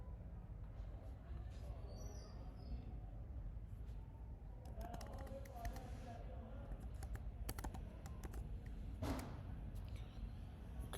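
Quiet keyboard typing as a WebLogic username and password are entered, with scattered soft key clicks and brief bursts of keystrokes over a low steady room hum.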